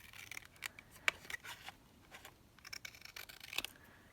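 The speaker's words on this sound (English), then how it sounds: "I might have to just cut this slightly smaller, so I'm just going to cut it down just a little bit." Paper trimmed with scissors for a junk journal, a run of close, crisp snips and sliding cuts in quick irregular bursts, with a few sharper clicks of the blades, heard alone without talk.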